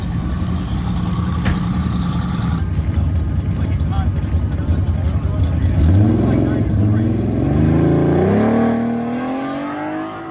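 A nitrous-fed V6 Chevette on a drag strip, its engine roaring loudly and climbing steadily through the gears with rising pitch, close and continuous, with some talk mixed in.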